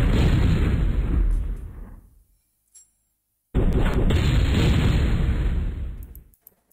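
Airstrike explosions in the MechQuest video game: a loud, roaring blast that fades out, a brief silence, then a second heavy rumbling blast that swells and tails off.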